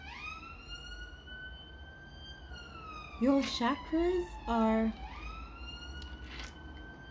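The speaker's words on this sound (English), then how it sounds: "I don't know if you can hear the siren in the background" A police-style siren wails steadily in the background, its rising and falling tone running through the whole stretch while a person speaks briefly over it in the middle.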